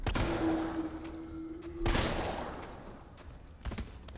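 Gunfire from a gun in Resident Evil 3 rings out in a few sharp bursts with a ringing tail, fairly quiet and spaced over several seconds.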